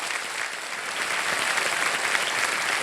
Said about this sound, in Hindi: प्रोजेक्ट हमारे देवी वसंत में जोरदार तालियां उनके लिए